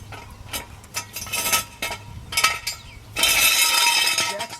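A metal jack stand scrapes and clanks as it is pulled out from under a Chevrolet Trailblazer after a wheel bearing replacement, with bursts of clinking metal and a louder sustained rattle toward the end.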